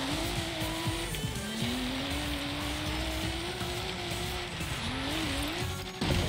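A Nissan Skyline GT-R in the racing game Forza Horizon 3 squeals its tires in long, wavering screeches over a steady engine roar.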